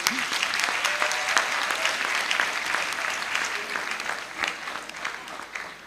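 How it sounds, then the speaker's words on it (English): Applause for a graduate at a university congregation in Ghana, a dense, sustained roar of clapping from a large crowd with no voices above it. "Please, another round of applause to her."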